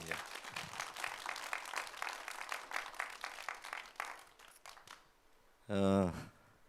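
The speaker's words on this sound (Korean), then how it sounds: "박수 한번 더 보내주고 싶습니다." Concert audience applauding, a dense steady patter of many hands clapping for several seconds, thinning out before a brief louder burst near the end.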